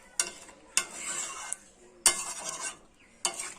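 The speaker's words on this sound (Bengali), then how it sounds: "জলটা দেওয়ার পরে আমি একটু ভালো করে নাড়িয়ে নেব।" A spoon stirs chicken kosha, a low-oil chicken curry, in a pot just after water has been added. Four or five quick scraping strokes come up close, each a bright rasp followed by a short wet swish, with no talking.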